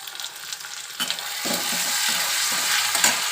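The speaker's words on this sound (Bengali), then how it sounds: "এদিকে আমার মশলা কষা হচ্ছে এই যে" Spice paste frying in a pan, a loud, dense sizzle that swells after a second and holds steady, with a few soft scrapes of stirring mixed in.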